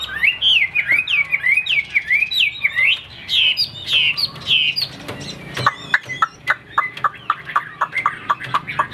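A caged songbird sings loudly and close, with rapid whistled and warbling phrases, then a run of sharp repeated chirps after a short pause.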